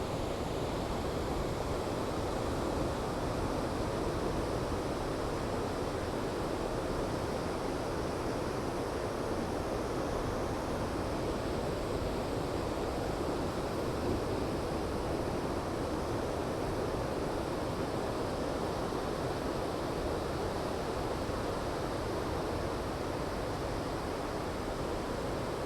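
Ocean waves breaking on a San Francisco beach make a steady, broad wash of surf that stays even and unbroken for the whole stretch, with no voices over it.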